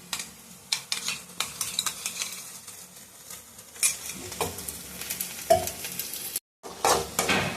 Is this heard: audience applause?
no